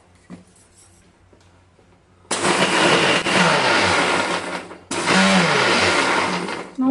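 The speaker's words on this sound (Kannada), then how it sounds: "ಈಗ ಮಸಾಲೆ ಮಿಕ್ಸಿ ಮಾಡ್ಕೊಳ್ಳೋಣ" A kitchen mixer grinder grinding masala for raw mango thokku runs in two loud bursts, the motor whirring hard for about two and a half seconds, a brief pause, then a second run, after quiet room tone.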